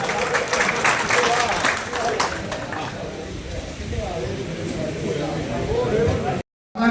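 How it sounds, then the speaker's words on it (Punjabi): Crowd applause at a BJP party gathering in Bagha Purana, a steady wash of clapping mixed with crowd noise and voices talking over it, then it cuts off abruptly. "ਜ਼ੋਰਦਾਰ ਤਾੜੀਆਂ ਮਾਰੋ"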